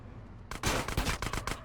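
Rapid gunfire bursts from GTA San Andreas erupt after a quiet start, with loud clustered shots repeating through the rest of the moment.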